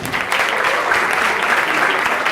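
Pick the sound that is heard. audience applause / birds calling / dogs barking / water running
audience applause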